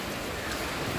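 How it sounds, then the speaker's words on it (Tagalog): Heavy rain pours down in a dense, continuous hiss that stays loud and unbroken for the whole moment, with no talking. "Grabe ang lawak ng ulan. Grabe ang ulan."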